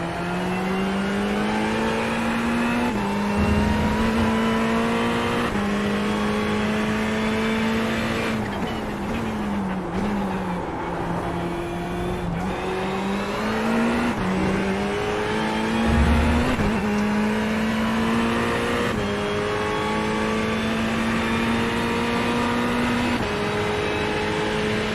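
A GT3 race car at Daytona roars steadily at high revs for a long stretch, its engine note rising through each gear and dropping sharply at upshifts, a close, continuous onboard drone with brief dips under braking.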